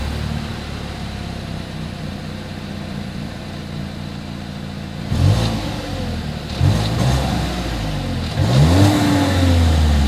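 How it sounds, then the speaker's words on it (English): A 2021 Volkswagen Tiguan idles steadily, then its exhaust rises in three revs, each sweeping up in pitch and falling back, the last one the longest and loudest, all close by with no talk. "As always, here is that exhaust clip."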